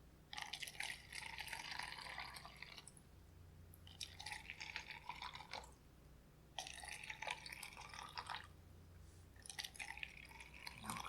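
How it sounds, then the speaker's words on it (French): Water is poured into seven glasses one after another, three separate bursts of steady splashing fill with brief quiet gaps between them, close by and moderately loud, no talking. "Et je vais remplir tous ces verres."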